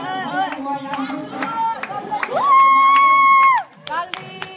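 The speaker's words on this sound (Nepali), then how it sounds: "उहाँलाई जोरदार तालीले स्वागत गरौँ।" An audience cheers, shouts and claps to welcome a performer at a Nepali stage show in America. A held electronic tone sounds over the crowd noise, and a voice talks near the start.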